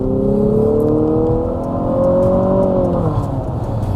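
A 2022 Infiniti QX55 with a CVT transmission accelerating hard, its engine droning loud and close as the pitch climbs steadily, then easing off toward the end.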